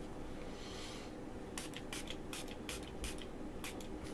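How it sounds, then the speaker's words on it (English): A homemade antiseptic spray of black tea, witch hazel and lemon juice hisses from a pump bottle in several quick, close bursts, each a short airy spritz, with no talk over it. "I'm spraying myself with a little freshener. Hang on. That was my antiseptic spray."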